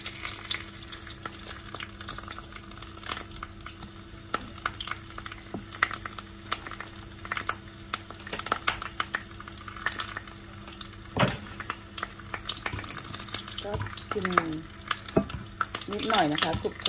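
Tofu and dried squid frying in oil over lowered heat in a home kitchen, a soft crackling sizzle with scattered clicks and pan knocks, fairly quiet and without talk.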